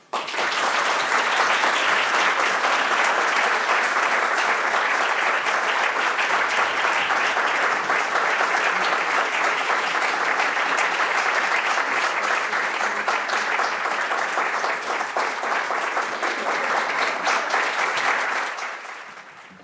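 An audience applauds steadily to welcome a speaker to the podium: a dense, even roar of clapping from a large crowd sustained for nearly twenty seconds before tapering off at the end.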